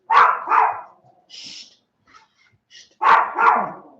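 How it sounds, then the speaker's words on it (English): A Chihuahua barks nearby in two quick double bursts, sharp and yappy, separated by a quiet stretch with faint scattered sounds. "The Chihuahua's barking at my hat."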